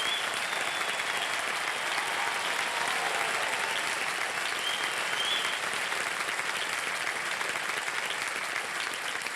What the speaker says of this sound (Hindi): तालियों के साथ हम अभिनंदन करना चाहेंगे